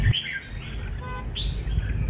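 A caged songbird kept for competition calls in short, bright chirps and a rising whistle, close and clear over low background noise.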